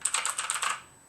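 Quick typing on an E-Element Z88 budget mechanical keyboard, a short run of about ten crisp, clicky keystrokes in fast rhythm, close and alone, then the keys fall silent.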